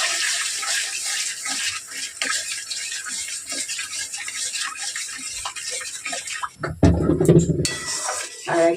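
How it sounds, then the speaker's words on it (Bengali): Cornflour slurry is poured into a pan of Chinese chili chicken with a liquid splash and gurgle, standing out against the quieter background of kitchen cooking sounds. "এবার এটা যে কর্নফ্লাওয়ারটা গুলে রেখেছিলাম দিয়ে দেবো।"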